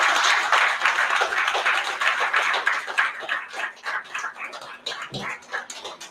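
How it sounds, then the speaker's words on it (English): An audience at a chess tournament event applauds to welcome a guest on stage, the dense clapping starting strong and then thinning into scattered, fading claps. "please give Mr. Ganeshan a big round of applause"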